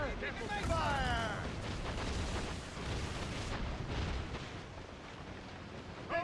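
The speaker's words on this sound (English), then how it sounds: "Make good use of your own mortars, Shay." Ship-mounted mortars fire during a naval battle in Assassin's Creed Rogue, sounding as deep distant booms and rumbling blasts under a continuous wash of sea and battle noise, with shouted voices over the top.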